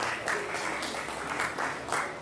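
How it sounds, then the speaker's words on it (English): An audience at a political rally applauds, a steady wash of clapping heard from a distance with a few louder swells, fairly quiet overall. "Yes, you can clap for that."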